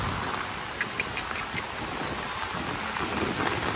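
Rain falls in Mumbai, a steady soft patter with a few sharper drop clicks near the start. The hiss is fairly faint and no one speaks.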